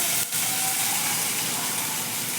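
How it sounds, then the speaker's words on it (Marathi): Tomatoes sautéing in a pan for a spicy village-style pithla, a steady close hiss of sizzling with one short click near the start. "आता यात टोमॅटो चांगलं मऊ होईपर्यंत परतून घ्यायचं"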